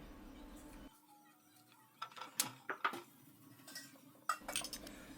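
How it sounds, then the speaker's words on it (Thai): A spoon scrapes and clinks against a metal pot of Thai chicken soup in a handful of irregular taps, fairly close and quiet, amid a soft background hum. "คนให้เข้ากัน"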